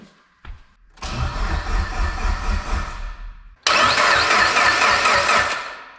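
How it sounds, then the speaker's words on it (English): An engine with its coil packs unplugged cranks over without firing, the starter churning in a steady rhythmic whir for a couple of seconds, pausing, then spinning again louder and brighter, close and alone with no voices. "I just want to turn this thing over real quick, just to hear it turn over."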